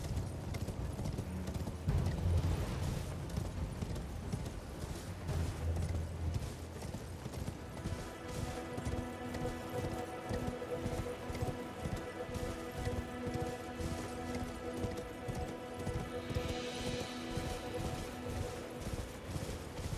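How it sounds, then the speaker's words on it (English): A horse galloping in the video game Elden Ring, with steady, rhythmic hoof clip-clops throughout, fairly faint and continuous with no talk. "Interesting how different it is traversing the world on horse than from some games."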